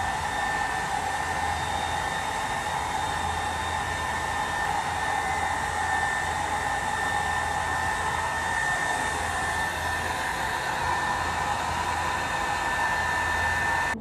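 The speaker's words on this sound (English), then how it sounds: "I've been blow drying it on the low setting" A hair dryer on its low setting blow-drying hair, a steady, close whooshing hum with a constant whine that runs unbroken for the whole stretch, with no talking.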